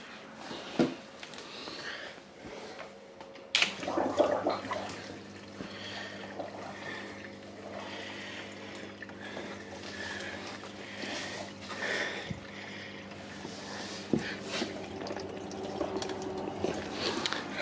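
Eheim Reflex UV filter starting up, a low steady hum with water trickling and gurgling through it, faint and close, with a few knocks and clicks.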